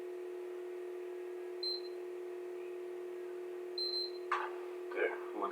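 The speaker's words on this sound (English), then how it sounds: "There are 2 constant beeps." A PS3 console gives two short, high electronic beeps a couple of seconds apart as it boots into safe mode, over a quiet steady hum. Someone speaks briefly at the end.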